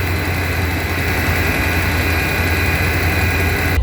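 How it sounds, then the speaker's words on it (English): A 2017 Dodge Ram engine idles steadily with a deep low rumble and constant mechanical hum, running alone without talk for the whole stretch. "Okay, with the motor running."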